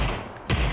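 A gunshot bursts out in a shooting video game, a single loud close crack about halfway through after a stretch of low background game noise.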